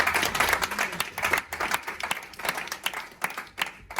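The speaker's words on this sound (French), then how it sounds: "Tu peux acclamer pour toi-même déjà" A church congregation claps and cheers after a prayer, the applause uneven and swelling in bursts, moderately close, with scattered voices mixed into the crowd noise.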